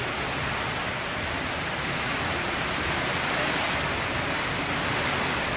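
Heavy monsoon downpour in a village during a cloudburst, a steady dense roar of broadband rain noise filling the whole stretch without a break, close and loud, with no voices.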